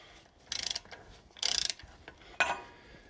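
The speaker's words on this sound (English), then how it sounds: "Then we can loosen our second 54mm nut." A ratchet loosening the 54mm nut on a Toyota Land Cruiser swivel hub during a rebuild, three separate bursts of rapid metallic clicking, close and fairly loud with quiet pauses between them.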